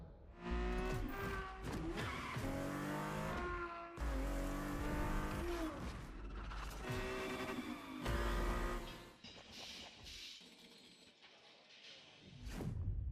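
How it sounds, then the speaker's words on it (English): A Ferrari F50 in The Crew Motorfest racing game roars loudly through repeated throttle bursts and gear changes, with tire squeal, engine pitch rising and falling several times and a quieter stretch near the end. "The Ferrari F50, a bridge between road and racetrack."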